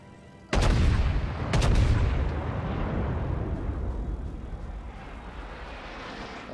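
Heavy cruiser gunfire from the USS Atlanta in World of Warships, two loud booming shots about a second apart, each followed by a long rolling rumble that fades slowly. No talking.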